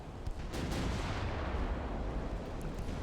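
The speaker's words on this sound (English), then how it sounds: "That sounds like a torpedo or something." A torpedo explodes in the naval warfare game Ultimate Admiral: Dreadnoughts, setting off a loud, deep, rumbling blast that lingers as a dense roar for about three seconds.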